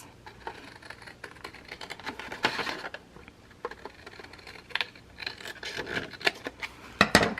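Craft mat pieces are cut in half. Irregular scraping and rasping strokes sound close up and fairly quiet, with bursts of rapid cutting clustered at several points.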